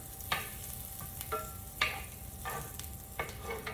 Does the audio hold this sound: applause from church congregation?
no